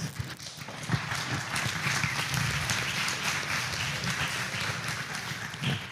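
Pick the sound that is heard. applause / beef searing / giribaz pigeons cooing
applause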